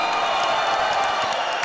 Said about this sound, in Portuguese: Palmas para os campuseiros e as campuseiras que estão aqui,